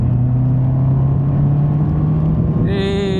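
A new motorcycle downshifting into fourth gear while entering a curve: a loud, close, steady engine drone with a change in pitch near the end.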